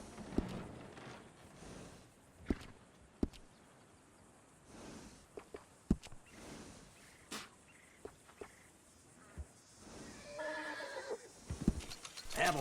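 A horse in the Red Dead Redemption 2 video game whinnies and snorts amid scattered hoof clops and sharp tack clicks, with faint insects chirping in the background and no voices.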